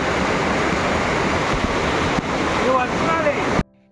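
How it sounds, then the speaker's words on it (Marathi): Tandulwadi waterfall near Mumbai in light monsoon conditions, a broad continuous roar of falling water with wind buffeting the microphone, a few faint higher tones near the end before it cuts off. "मस्त धबधबा आहे हा तांदूळवाडीचा"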